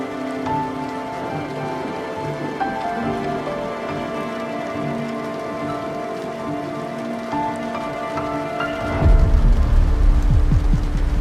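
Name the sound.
rain falling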